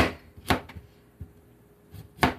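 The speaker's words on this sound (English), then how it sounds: "I'm just going to attack it with a knife and make it square" Kitchen knife chopping a vegetable into square, angular chunks for curry and rice: a few sharp, sparse thuds on a board at irregular spacing, close and clear with no talk.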